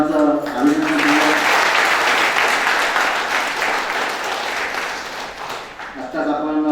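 Loud audience clapping in a lecture hall congratulating a university lecturer, swelling after a brief voice at the start and fading before speech resumes at the end.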